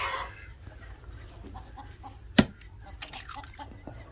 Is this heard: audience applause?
no